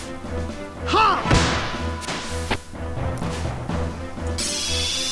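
Heavy body slam impact in the Xenogears role-playing video game, a loud punchy thud over looping game music and synthetic battle effects.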